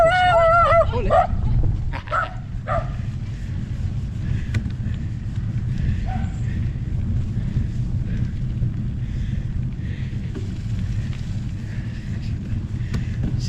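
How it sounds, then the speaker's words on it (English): A dog barks and yips at a passing cyclist on a rural trail, a quick cluster of sharp barks at the start, then wind rumble and faint trail noise. "So he barks at the cyclist."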